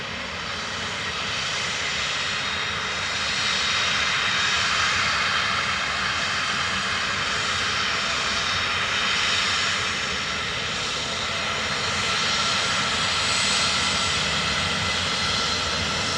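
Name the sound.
aircraft at Dublin Airport, Ryanair landing runway 28 left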